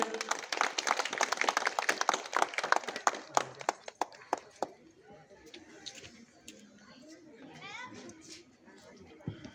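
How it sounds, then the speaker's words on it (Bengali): Crowd clapping at a neighbourhood winter clothes distribution gathering, steady applause through the first four seconds that thins to a few isolated claps, with children and adults talking in the background. "একটু হাততালি দেবেন"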